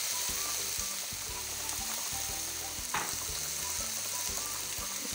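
Chicken with tomato puree sizzles steadily in a pan while a spoon stirs through it in regular scraping strokes, close and continuous with no voices.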